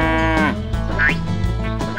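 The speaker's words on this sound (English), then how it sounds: "The cow crept closer to the flower garden." Near a flower garden, a cow gives a few close, drawn-out moos in quick succession that are clear and fairly loud, with no talk over them.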